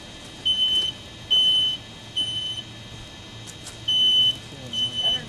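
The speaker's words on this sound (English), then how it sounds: "There's how fast a smoke detector is going to go off." A live smoke detector goes off during a house fire test, sounding five loud, shrill beeping bursts in an irregular pattern. A voice talks between and over the alarm.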